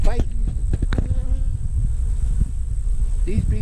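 Honey bees from rival swarms buzz loudly and continuously as they fight at a hive box, a dense close-up drone with sharp individual wingbeat whines rising above it.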